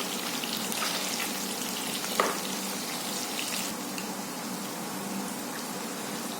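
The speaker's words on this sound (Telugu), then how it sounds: "దాదాపు 7 to 8 minutes బాగా ఫ్రై చేసామండి ఆయిల్లో" Curd-marinated Chicken 65 fries in hot oil with a soft, continuous, rain-like sizzle. It stays steady and fairly quiet, with one brief louder pop partway through.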